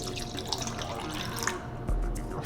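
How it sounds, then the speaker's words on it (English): Warm water poured into 4 ounces of emerald glue while making slime, a steady close splashing trickle with a heavier gush near the end. "go ahead and add your warm water to the glue."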